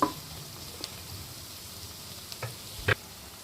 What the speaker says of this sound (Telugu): కట్ చేసిన పచ్చిమిరపకాయ ముక్కలు ఇవి వేయించుకోవాలి.